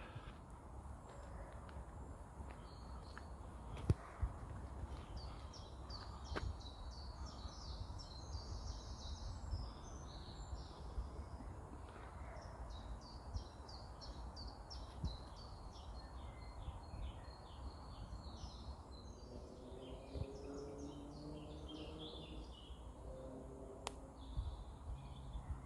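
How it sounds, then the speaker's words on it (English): Birds sing in Penshaw Woods, with faint, distant chirps and trills over quiet outdoor ambience and a soft low rumble throughout. "the beautiful song of those birds"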